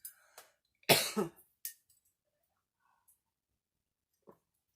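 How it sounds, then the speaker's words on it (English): A single harsh cough bursts out loudly, followed by a smaller throat sound and a few faint clicks in an otherwise quiet room. "I'm going to cough, excuse me."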